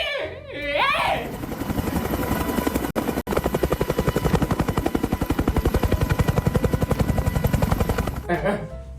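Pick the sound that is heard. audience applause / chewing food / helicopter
helicopter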